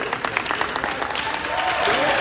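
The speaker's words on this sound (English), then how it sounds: "a round of applause." An audience gives a round of applause, with brisk, close clapping in a room that stays fairly loud and even, mixed with some faint voices underneath.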